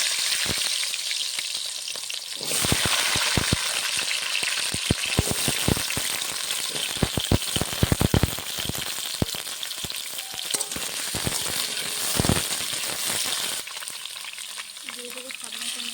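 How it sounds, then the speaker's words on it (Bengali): Cut, washed potatoes drop into hot mustard oil and fry with a loud, crackling sizzle, dense bursts of spitting and popping close up that settle into a steadier hiss, with faint stirring near the end. "কেটে ধুয়ে রাখা আলুগুলো দিয়ে দেবো। আলুটা আগে ভেজে নেব।"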